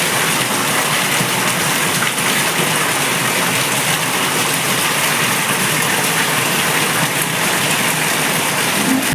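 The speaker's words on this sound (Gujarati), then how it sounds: "અને અહીંયા વરસાદ જો ફૂલા ફૂલ છે" Heavy rain pours down steadily over a village, a dense, continuous hiss of falling water that stays loud and unbroken from start to finish with no voices.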